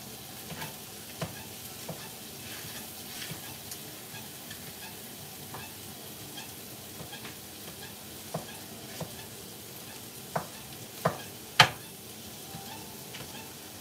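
Minced meat sizzles steadily in a pan while a utensil breaks it up, adding occasional faint scrapes and taps. The sound is quiet and close, with no talking.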